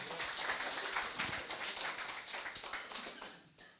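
A crowd applauds for a man introduced as Pak KB, a dense, steady wash of many hands clapping together that carries on throughout before easing off slightly at the end.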